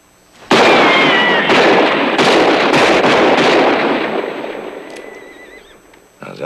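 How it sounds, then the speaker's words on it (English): Loud burst of gunfire in a Western movie shootout, several sharp shots in quick succession with ringing tails, fading out near the end. "How's that for shooting, Wally?"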